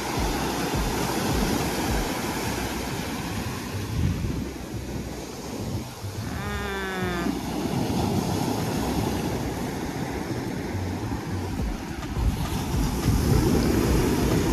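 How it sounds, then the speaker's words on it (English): Ocean waves break and wash along the shore on a Virginia beach, a continuous rumbling surf with wind noise on the microphone and a brief bird-like chirp midway, no talking. "The sounds of the wave is so relaxing."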